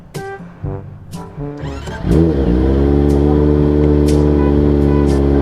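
A motorcycle engine starts with a few uneven low pulses and then settles into a loud, steady, close rumble that holds at a constant pitch.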